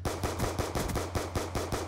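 Rapid gunfire from the Black Ops 2 video game on Xbox 360, a steady run of about eight evenly spaced shots each under a second apart, loud and close with a continuous low background hum and no talk.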